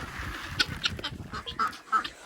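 A white duck quacks several times in short bursts amid a farmyard flock of chickens being fed grain, fairly close, with faint background voices and movement.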